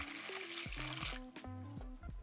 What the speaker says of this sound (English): Place chestnut and water in a saucepan.